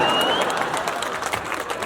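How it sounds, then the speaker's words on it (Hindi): A brief burst of audience clapping at a Hindi comic poetry gathering in Shivrinarayan, loud at first and thinning slightly as it goes on, with a little voice in the background. "सुन बढ़िया रहा, तालियां क्यों बजा रहे हो यार?"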